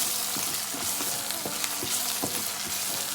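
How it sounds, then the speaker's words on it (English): Chopped onion frying in hot oil, close and steady sizzling crackle with a few spoon scrapes and stirring taps at irregular intervals, no voices. "we're going to leave the onion to fry until it is cooked"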